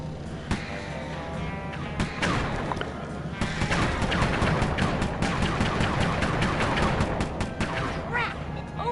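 A turret mounted on a vehicle fires at bamboo trees in the Sly 3: Honor Among Thieves video game, rapid repeated shots rattling loudly in a sustained burst that intensifies midway.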